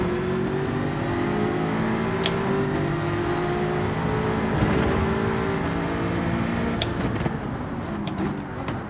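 Porsche race car in Gran Turismo 7 accelerating hard, a steady loud engine drone with layered harmonic whine holding throughout, rising slightly as it pulls away, with other cars' engines blended in.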